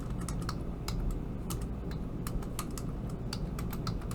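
Someone types on a computer keyboard in a quiet room, a soft run of irregular, fairly quick key clicks continuing steadily for the whole stretch with no talking.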